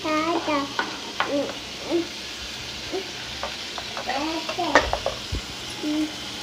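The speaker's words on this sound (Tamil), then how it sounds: "பட்டர் மெல்ட் ஆனோடனே நம்ம குட்டி குட்டியாக வெட்டி வச்சுக்கிற வெங்காயம் சேர்த்துக்கலாம்" Chopped onions frying in melted butter in a pan, a steady soft sizzle under repeated stirring scrapes, with a voice speaking intermittently over it.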